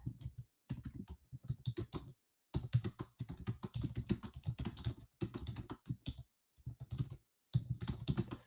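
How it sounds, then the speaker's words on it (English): Rapid clattering keystrokes on a computer keyboard, typed in close, uneven bursts separated by short pauses, with no voices. "Look what I'm typing in our chat."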